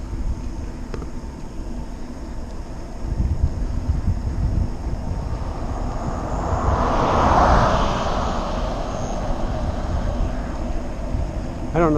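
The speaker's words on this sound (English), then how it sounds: "I don't know which way the wind's blowing." Steady wind rush buffets the microphone on a pre-dawn bike ride, a broad roar that swells toward the middle and stays constant throughout, with no talking.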